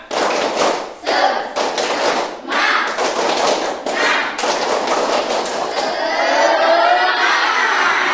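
A group of children performs a 'tepuk semangat' cheer-clap routine during a physical education class in Aceh, with loud rhythmic unison claps and thumps broken by short pauses and shouted voices, then giving way to mixed crowd noise.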